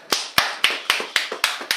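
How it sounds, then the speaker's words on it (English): Applause for the defending runner-up at a creme caramel eating challenge event, heard as seven loud, evenly spaced claps about a quarter second apart, sharp and close, with no talk over them. "a large round of applause for the defending runner-up"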